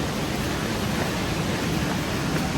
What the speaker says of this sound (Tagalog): Grabe yung hangin dito mga kababayan